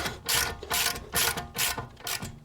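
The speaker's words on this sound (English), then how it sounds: "Then I'm just going to snug that down with my 19mm socket." A ratchet with a 19mm socket snugs down a castellated nut on a Toyota Landcruiser steering arm, giving five quick clicking bursts in a steady rhythm, close and fairly quiet with no talking.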